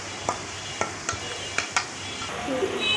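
Onions frying in oil with turmeric for beresta, a steady close sizzle broken by several sharp stirring scrapes and taps of a spatula, the frying swelling louder toward the end.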